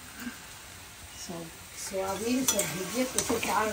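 Rice, lentils, soybean and potato being stirred and fried in a wok, with soft sizzling and scraping of a utensil against the pan, fairly quiet, alongside nearby talk.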